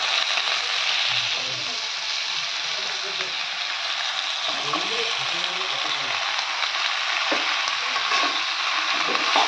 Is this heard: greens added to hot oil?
yes